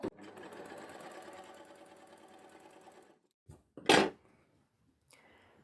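An overlocker runs steadily for about three seconds while sewing hand rolled stitches, then stops, followed by a few brief handling clicks and a short burst of noise.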